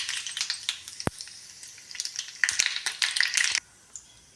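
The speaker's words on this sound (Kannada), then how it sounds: "ಎಣ್ಣೆ ಕಾದ ನಂತರ ಜೀರಿಗೆ ಸಾಸಿವೆ ಹಾಕೋಕತ್ತೀನಿ ನೋಡಿರಿ" Cumin and mustard seeds sizzle and crackle in hot oil for a tomato curry, a loud crisp spattering with a sharp click early on, before the sizzle cuts down abruptly near the end.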